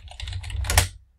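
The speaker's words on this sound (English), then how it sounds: "let's say you type something new, like that, or delete and type something new" Quick typing on a computer keyboard while editing a screenplay in Final Draft, a short close flurry of light key clicks ending in a firmer tap.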